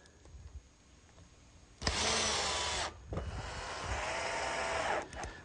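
A power driver sinks rust-resistant screws to fix a hinge to a redwood greenhouse unit, two close whirring bursts about a second each, loud against a quiet background.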